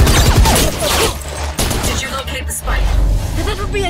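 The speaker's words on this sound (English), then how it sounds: "We're picking up gunfire." Bursts of rapid gunfire from the video game Valorant crackle loudly, with sharp shots and booms, alongside a voice talking over the shooting.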